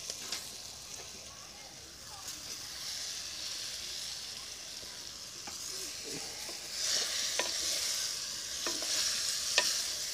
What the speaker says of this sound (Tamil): இதை போட்டு நல்லா கிண்டி இதை வேக விடணும்